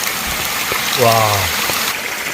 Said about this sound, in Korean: 이 아름다운 정원 옆으로 이런 시원스럽고 한여름 장마철 청량감을 줄 수 있는 그런 멋진 폭포가 와